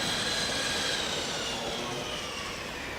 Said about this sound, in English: Again, the car preparing to launch.